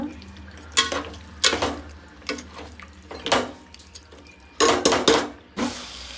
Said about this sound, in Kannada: ನಾನಿವಾಗ ಮಟನ್ನ ಹಾಕ್ಕೊಂಡಿದ್ದೀನಿ, ನೀವು ನೋಡ್ತಾ ಇರ್ಬೋದು